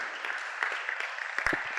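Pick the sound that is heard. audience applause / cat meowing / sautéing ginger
audience applause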